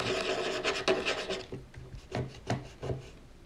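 A tool scraping across the casing of a One-Netbook One Mix 3s Yoga small laptop, a close, dry rasping scratch repeated in several short strokes, with no speech.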